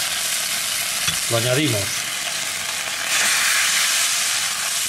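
Chicken jus boiling and sizzling in a pan while leftover stock is added, a steady close hiss and bubbling with a brief spoken phrase in Spanish partway through, then a louder wash of sizzle.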